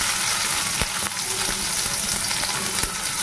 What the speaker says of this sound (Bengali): এই যে দেখো পেঁয়াজ লঙ্কাটা দিয়ে দিচ্ছি